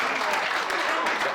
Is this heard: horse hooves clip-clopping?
no